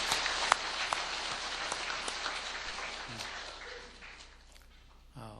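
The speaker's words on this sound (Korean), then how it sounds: "우리 성가대에 위해서 다시 한번 감사의 박수를 드리겠습니다." A church congregation applauds its choir, a dense patter of clapping spread through a large room that gradually thins and fades, with a voice briefly heard near the end.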